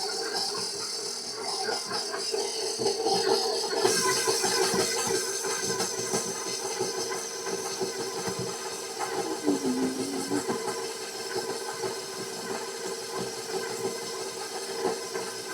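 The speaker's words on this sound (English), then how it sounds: "So I'm going to go ahead and mix it all up." A mixer steadily whirring as it blends a cream cheese filling for raspberry danish, a continuous droning hum with a rough, hissing edge and no clear breaks, sounding alone.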